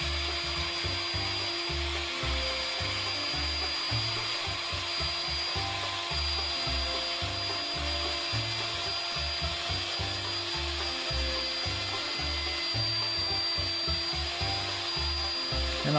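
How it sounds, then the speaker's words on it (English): Overhead fixed-head router cutting wood on a router table, a loud continuous whine with rhythmic chattering pulses as the workpiece is fed, steady throughout with no talk. "Just pulling the router head down to get the finished cut."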